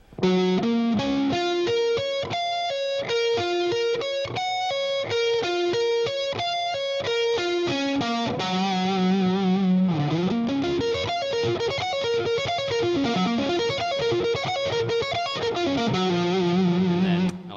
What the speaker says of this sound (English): I'm just kind of altering between the two tones and mixing it up with a 3 to 5 sweep